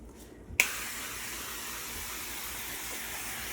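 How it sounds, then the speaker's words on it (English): Duck fat cooking spray hisses from a can onto a raw turkey being prepped for Thanksgiving, starting with a sharp burst and continuing as one long, steady, close spray. "I'm gonna go ahead and get some duck fat spray on this bad boy."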